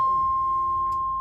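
Inside a new DLR B23 stock train, the ready-to-drive chime sounds as one loud, sustained, pure electronic bing that holds steady and then cuts off.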